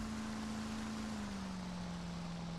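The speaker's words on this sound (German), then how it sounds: "Halte W gedrückt, um Vorwärtsschub zu geben und bringe das Boot innerhalb der parallelen Bojen zum Stehen." Steady motorboat engine drone from Grand Theft Auto: San Andreas, constant and loud throughout with a low tone that drops slightly partway through, no voices.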